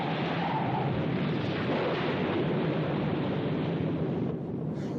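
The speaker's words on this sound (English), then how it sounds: "I've never seen such a storm." Loud, continuous rumbling roar of a thunderstorm fills the whole stretch, a dense broadband wash like heavy wind and thunder with no clear breaks, near and steady without voices.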